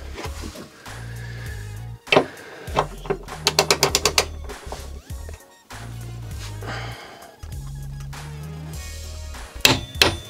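A ratchet wrench turns a screw on a BMW E46 330, giving close, loud rapid clicking runs in several bursts separated by brief pauses and metallic handling noises.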